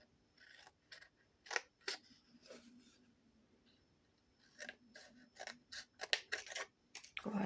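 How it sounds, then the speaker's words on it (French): Scissors cut paper in a quiet room with a string of crisp, close snips, sparse at first and then quicker and denser near the end. "C'est le ciseau qui colle un peu."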